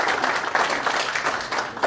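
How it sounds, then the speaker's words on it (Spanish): Steady applause from a conference audience, many hands clapping in a dense, even patter throughout. "Un fuerte aplauso y agradeciendo por su participación."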